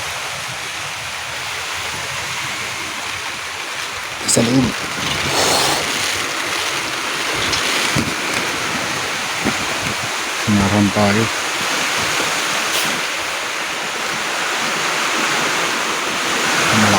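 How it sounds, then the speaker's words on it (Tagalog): Heavy typhoon rain and gusting wind roar as a steady broadband wash, with brief knocks and short spoken remarks over it. "Malakas na naman ang ulan"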